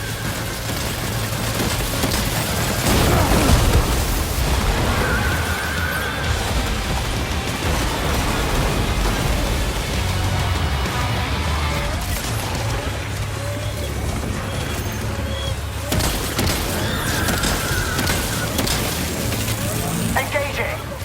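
Weapon fire and explosions from a giant ghost mech in Death Stranding 2 on PS5: continuous loud rumbling bursts and crackling impacts over a dense battle din, with voices talking throughout.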